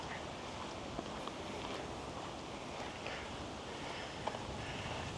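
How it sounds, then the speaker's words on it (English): Ducks quacking on Chestnut Hill Reservoir in Boston in late fall, a few faint, scattered calls over steady wind and water noise outdoors. "Ducks. Lots of ducks."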